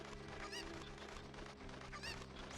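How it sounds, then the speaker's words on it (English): A chicken in a video game gives two short honking squawks, about a second and a half apart, over steady game music and background noise. "I can also use a chicken to get into that hole up there."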